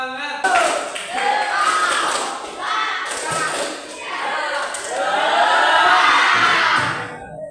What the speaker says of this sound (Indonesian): Bisa tepuk semangat?